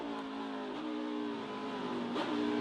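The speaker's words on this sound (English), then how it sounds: "Blips that throttle to get the car into gear." A NASCAR Xfinity Series race car engine screams at high revs, dips as the gear changes, then a sharp throttle blip flares the pitch before it settles and climbs again.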